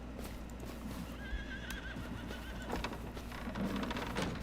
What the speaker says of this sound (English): Look at our horses!